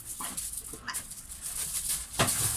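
A playful dog barks and whimpers indoors in a few scattered yips and whines, moderately close, with a sharper bark near the end.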